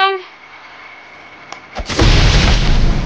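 A bomb goes off in the Roblox game Blox Fruits, a short tone and a few faint clicks leading into a sudden loud blast with a sustained roaring burst that fills the rest of the moment.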